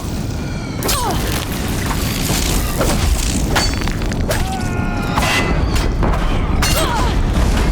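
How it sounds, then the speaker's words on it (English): Deathbringer war machines firing on a bridge in Horizon Zero Dawn, heavy booming blasts and crumbling impacts repeating over a dense, continuous rumble of battle, loud and close. "If the Deathbringers keep firing, this bridge will go."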